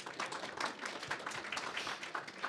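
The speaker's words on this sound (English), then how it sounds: "So a round of applause for Patrick." An audience at a SpaceX and NASA presentation applauds, a dense, steady wash of clapping from many hands lasting a couple of seconds, with no talking over it.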